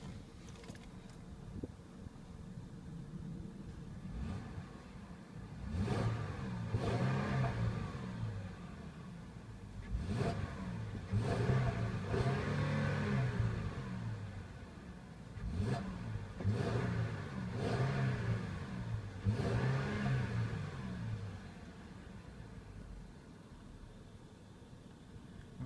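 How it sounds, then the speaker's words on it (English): V6 engine of a 2014 Mercedes-Benz ML350 revved repeatedly at moderate distance, five or six swelling blips that climb and fall in pitch between quieter idle stretches, no talking. "After we revved it, it is a V6"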